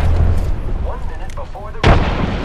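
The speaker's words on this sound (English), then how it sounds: "Incoming grenade." A single loud grenade blast booms near the end of a tense stretch in a military shooter video game, preceded by faint voices and quieter background noise.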